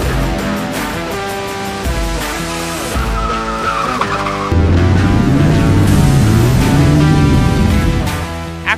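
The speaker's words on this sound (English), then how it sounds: "another night race for the Philippine Autocross Championship Series" Cars in a night Philippine autocross championship race produce loud layered engine and tire noise, with squealing, shifting tones and a heavier surge partway through, no talking.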